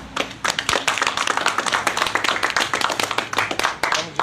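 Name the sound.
applause for a speaker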